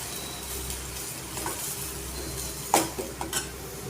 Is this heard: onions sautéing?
yes